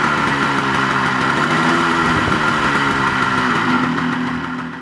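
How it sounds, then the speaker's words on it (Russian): A 1972 Soviet MB-18 light moped's small two-stroke engine runs steadily nearby, buzzing and puttering in an even rhythm, fading slightly at the end. "Легкий мопед МБ-18"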